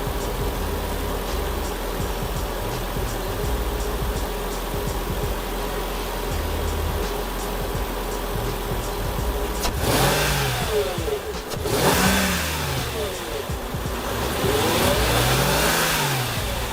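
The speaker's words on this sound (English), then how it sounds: "Now let's go hear that 493 horsepower engine." The 493-horsepower engine of a 2003 Mercedes CL55 AMG idles with a steady low rumble, then is revved several times in sharp, rising bursts that fall back to idle.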